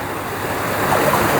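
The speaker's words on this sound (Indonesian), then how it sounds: "Tuh jadi deras ya teman-teman. Pembuangan dari pompanya di jalan." Water gushes hard from the outlet of a flood drainage pump onto a flooded street during heavy rain. The roar is loud, close and continuous, with a broad rushing sound and no voices.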